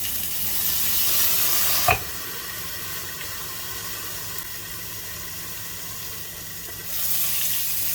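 Liquor splashed onto a steak sizzling in a hot pan, giving a sharp burst around two seconds into steady frying hiss that carries on without talk.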